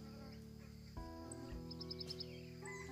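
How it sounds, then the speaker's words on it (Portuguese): A sabiá thrush sings in the countryside at sunset, its clear whistled phrases carrying softly over a rural evening backdrop with faint insect buzz and other distant birds. "Ao fundo, o som de uma sabiá."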